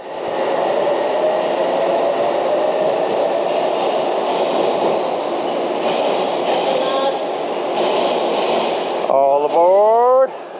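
A train at a station in Japan, a loud sustained roar and rumble of railcars with a whining motor pitch, ending with a rising electric whine as it accelerates or brakes; a voice speaks over it.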